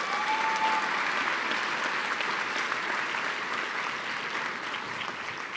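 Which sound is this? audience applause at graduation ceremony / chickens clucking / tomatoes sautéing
audience applause at graduation ceremony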